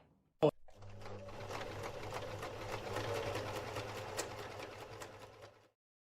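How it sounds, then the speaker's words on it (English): A sewing machine runs steadily for about five seconds while sewing quilt-as-you-go blocks, a fast mechanical stitching hum with light rattling, starting right after a sharp click. "we will go and get to the sewing machine and get this project going."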